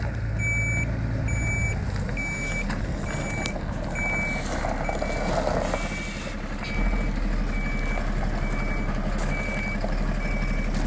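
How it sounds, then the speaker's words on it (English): A food delivery truck at the Iraq–Syria border backs up, its reversing alarm beeping in a steady, evenly spaced series over the continuous rumble of the engine and road noise, with no talk. "The truck arrives full of food."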